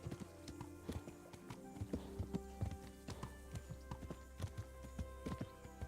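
Hooves of a horse named Pebble in Kingdom Come: Deliverance, a steady walking clip-clop of soft, evenly spaced thuds, quiet and continuous with no talk.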